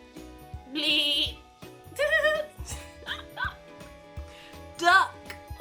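A voice imitates a goat bleating with short wavering cries, mixed in among other animal-sound imitations and spoken words while a children's animal book is read aloud.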